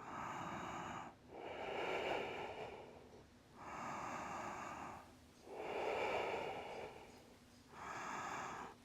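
Slow, steady breaths held through a vinyasa yoga pose: three long, airy inhale-exhale cycles, close and moderately loud, each one a rushing hiss separated by short pauses.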